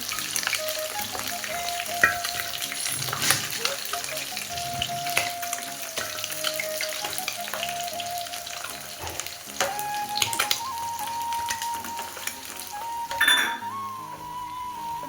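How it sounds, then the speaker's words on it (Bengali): Snakehead fish sizzling and spitting as it fries in hot oil in a pan for a village-style mango-and-fish dish. A steady, close crackle runs throughout, with occasional light utensil clinks and no talking. "মাছগুলো আমার দেখুন ভেজেছি, মাছগুলো আমার ভাজা হয়ে গেছে"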